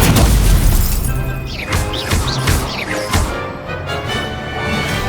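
Fire spell cast during a magic duel in the Hogwarts Legacy video game: a loud booming blast up front, then several bright whooshing bursts over a rumbling game-music and effects bed.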